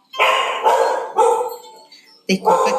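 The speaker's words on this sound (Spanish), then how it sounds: "Disculpen por lo del perrito." A small dog barks in several sharp, close yaps, with a short pause before a final pair of barks.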